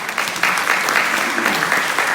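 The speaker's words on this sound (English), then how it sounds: "we can clap for that" Applause at a church panel discussion, a steady burst of clapping from an audience that carries on for a couple of seconds, fairly close and full.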